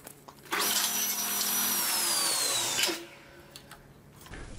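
A power saw with a 1/8 inch blade cuts a dado test pass in a wood scrap, giving one loud, close whine of about two and a half seconds that ends sharply, followed by quiet room noise.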